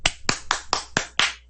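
Five or six sharp, evenly spaced hand claps ring out close by in a quiet room, each with a short decaying tail.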